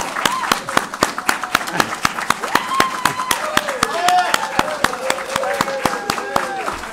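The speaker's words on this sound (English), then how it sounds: "I like to start each ceremony with a big round of applause" A group applauds and whoops at a Nasdaq opening bell ceremony, with a fast, steady run of sharp claps under rising hoots and cheering calls, close and lively throughout.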